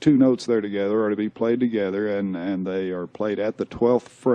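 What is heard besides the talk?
No everyday noises stand out.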